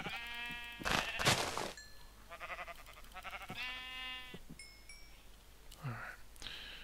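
Several sheep bleat in a Minecraft game session, with a handful of short, synthetic bleats at varied pitches spaced across several seconds. Faint clicks and soft noise sit in the background.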